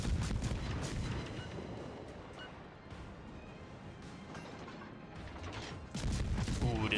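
Warship main battery guns firing in World of Warships, heavy booming salvos and rumbling blasts at the start and end with continuous dense battle noise between, loud and close.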